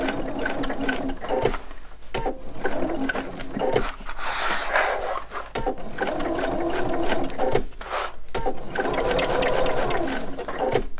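A Pfaff sewing machine stitches fabric in close, rapid mechanical bursts, whirring runs broken by short pauses as the presser foot lifts, with a little quiet talk in between.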